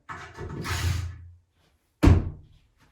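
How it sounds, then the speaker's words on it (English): Two hammer knocks fitting a door lining: a softer, drawn-out thud followed by a sharp, solid bang against wood after a pause, nearby. "Bit of real world hammer in there."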